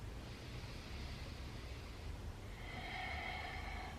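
A deep, steady breath taken during a morning yoga stretch, heard as a soft continuous airy rush that swells slightly near the end, close to the microphone with no talking.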